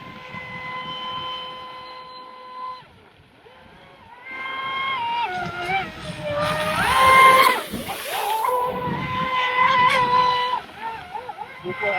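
A radio-controlled boat powered by a LiPo battery runs on water with a high electric motor whine. The pitch rises and falls as it makes passes, and the water splashes and rushes louder midway.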